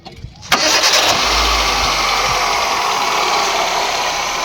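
Hyundai Santro Xing 2011 petrol car starting up nearby: a short cranking burst, then the engine catches and settles into a smooth, steady idle.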